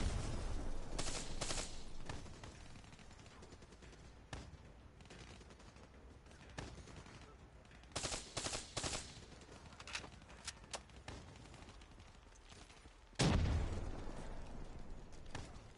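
Bursts of gunfire in a war video game, with scattered shots and rapid volleys crackling through a steady battle din, one heavy close blast near the end.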